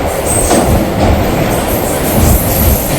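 A train runs along the rails, traveling from Sivasagar to Rangia in Assam: a loud, continuous rumble with rhythmic wheel clatter and a faint high squeal, heard from inside a nearly empty carriage.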